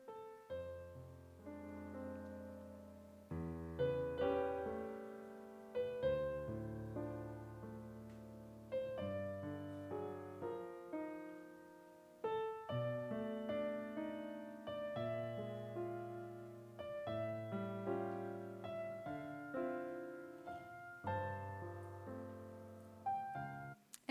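Piano-like music generated by a transformer machine learning model plays on its own: a continuous stream of melodic notes and chords with a steady rhythm, fairly quiet and without voices.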